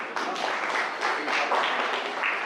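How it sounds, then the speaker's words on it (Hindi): An audience at a cyber crime awareness workshop applauds to welcome a guest. The clapping is dense and steady, close and moderately loud, rising and falling slightly over a couple of seconds. "उनका स्वागत सम्मान तालियां बजा दीजिए"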